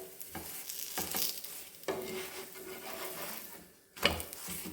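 Spinach chapati frying in mustard oil on a pan, a bright sizzle running throughout, broken by several sharp scraping and pressing clatters as the flatbread is moved and turned, close and fairly loud.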